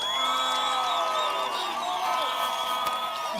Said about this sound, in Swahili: Tupigieni Rais Uhuru makofi.